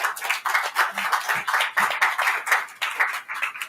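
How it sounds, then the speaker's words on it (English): A small audience claps at an ocean day event in support of CAF, the applause fairly sparse with distinct individual claps and a loose rhythm, close and steady throughout. "So let's just bring in a big applause for CAF for supporting the ocean."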